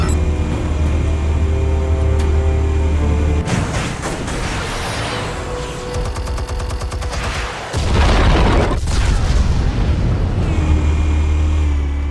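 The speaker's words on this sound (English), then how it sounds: "Explosives armed. Fire when ready." Explosives detonate in Batman: The Telltale Series, producing a loud, sustained, roaring rumble of blasts and debris that shifts in intensity across several seconds, with no speech.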